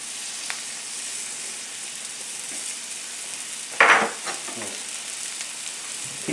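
Butter, flour and garlic sizzle steadily in a pan with a constant frying hiss, and a sharp scrape of stirring breaks in near the middle, followed by a softer one.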